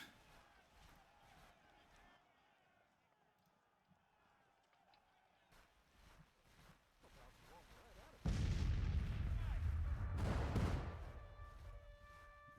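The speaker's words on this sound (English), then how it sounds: "Artillery can fire again." Cannon fire in a Civil War battle from a strategy game, heavy booming blasts swelling loud near the end, with a tail of rumbling reports over an earlier stretch of quieter distant gunfire and ambient noise.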